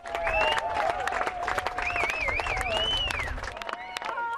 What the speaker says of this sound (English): Now hundreds of people are cheering them all along the harbour's edge.